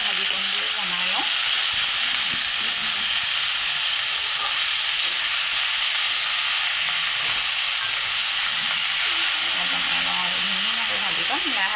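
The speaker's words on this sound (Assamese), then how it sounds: "ধুনীয়াকৈ ভাজিকণ বোলো বনাই লওঁ।" Lai greens and potato stir-fry in a pan with a loud, steady hissing sizzle and occasional stirring scrapes, while someone talks over the cooking throughout.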